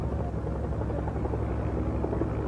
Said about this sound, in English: light utility helicopter produced in very great numbers for the American Army